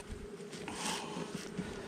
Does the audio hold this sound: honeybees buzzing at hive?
yes